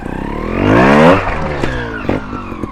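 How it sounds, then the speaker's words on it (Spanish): A trials motorcycle revs hard and climbs onto a rock step, engine note rising to a loud peak then dropping into short throttle blips and clattering knocks close by. "soltamos embrague, damos gas, tocamos con la rueda delante en la parte superior de la piedra"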